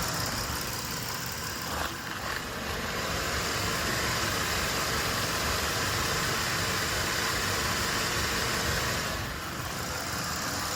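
Engine of a 2007–2015 Mazda CX-9 idling steadily after a water pump replacement, a continuous broadband hum and hiss heard up close with no talk and only slight changes in level.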